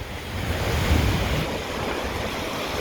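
Waves wash onto the Gulf shore at Fort Desoto beach, where fine white sand churns in the water; a steady, close surf roar with heavy wind buffeting the microphone.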